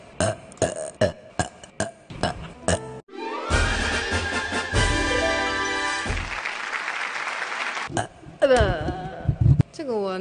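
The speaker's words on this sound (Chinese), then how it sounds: "今天打嗝次数给自己定个指标，不能超过10次。" A young woman burps over and over, with a run of short sharp belches first, then long drawn-out tonal burps that almost sound melodic, loud and close, with a brief voice between them.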